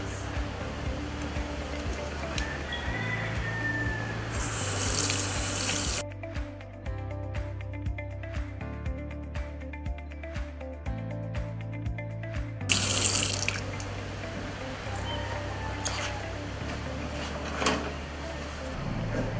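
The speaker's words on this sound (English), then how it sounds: "You must wash your hands or sanitize." A tap running steadily as hands are washed at a sink at a school entrance, a continuous close splashing flow with a voice talking over it.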